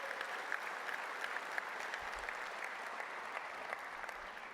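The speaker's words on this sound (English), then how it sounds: "give them a round of applause" A keynote audience at the PASS Data Community Summit 2024 conference applauds steadily and evenly, a dense wash of many hands heard at a distance and fairly quiet, with no talking over it.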